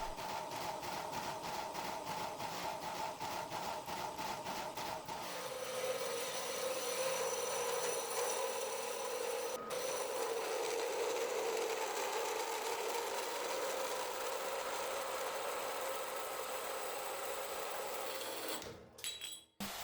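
A power saw cuts the cracked edges off a copper mesh steel billet: a fast rattling buzz at first, then a steadier grinding whine through the metal, ending in a few sharp knocks.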